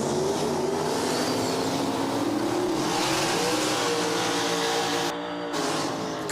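Two twin-turbo cars, a pink Ford Fairmont and a New Edge Mustang, roar off the line at a drag strip. The engines climb in pitch continuously, loud and close, then recede, with a brief dip near the end.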